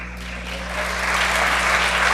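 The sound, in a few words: fans applauding an injured basketball player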